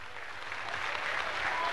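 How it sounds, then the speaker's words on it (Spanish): Audience applause at a public ceremony in La Paz where a presidential module is handed over, a dense steady wash of clapping lasting under two seconds with no voices over it. "un aplauso para los compañeros"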